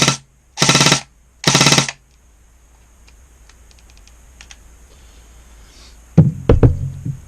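A Krytac Kriss Vector airsoft gun firing fully automatic, with two short, loud rapid-fire bursts separated by a brief pause, followed by faint clicks and some handling noise.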